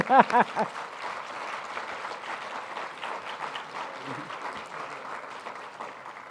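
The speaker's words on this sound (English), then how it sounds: "I think that deserves an applause." Audience applause for Justice Sonia Sotomayor at a civic leadership award presentation rises right after a brief burst of speech and continues as steady, moderately loud clapping to the end.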